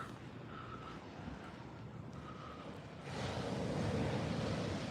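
Steady broadband rush of surf near the shore of a small San Francisco Bay beach at Ghirardelli Square after hours, swelling louder partway through as a bigger wash rolls in, with a breezy edge and no voices.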